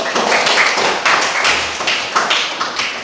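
Classmates applauding a presenting group in a classroom, a dense patter of clapping with a few louder surges, with no talking over it.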